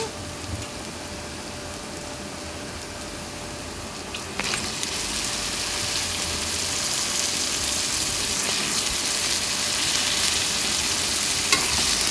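Chopped brinjal pieces fry in oil while a ladle stirs them: a constant sizzling hiss that swells louder partway through, with occasional soft scrapes.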